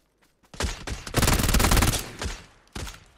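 Gunfire in PUBG: Battlegrounds, a burst of rapid shots swelling into a dense volley for about a second, then tapering off, followed by a few more sharp shots, moderately loud.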